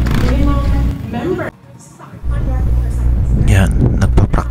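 Racing cars run practice laps at a club race event, engines droning loud and close with a brief dip in the middle, under voices talking.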